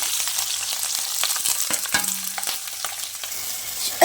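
Chillies fry in a kadai for a ripe chilli and tomato chutney, giving a steady close sizzle with a few sharp clicks and no voices.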